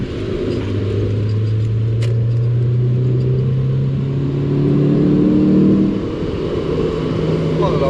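A Proton Satria GTI hatchback pulls hard in fourth gear toward 6,000 RPM, its engine droning loud and steady from inside the cabin, the pitch climbing and then easing off, with road rumble underneath.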